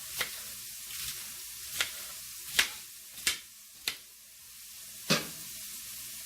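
Ground beef browns in a hot pan with a steady soft sizzle, broken by about seven sharp scraping stirs of a utensil against the pan at uneven intervals.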